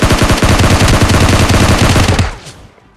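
Rapid automatic M16 rifle fire in PUBG Lite, a loud, dense burst of shots lasting about two seconds, then cutting off abruptly into a brief fading tail.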